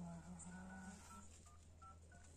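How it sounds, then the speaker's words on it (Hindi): Telephone keypad tones sound faintly as a number is dialed, with short beeps at uneven intervals over a quiet background hum. "मैं फोन लगा देता हूँ।"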